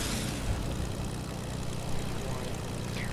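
Propeller airplane droning steadily in Fortnite, a continuous low engine hum that stays loud and even throughout.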